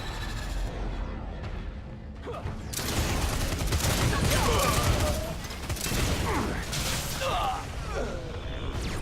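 Gunfire rattles through a Lawbreakers match, dense bursts of shots and mechanical weapon noise swelling after a quieter start and continuing to the end, with in-game voices heard among the shooting.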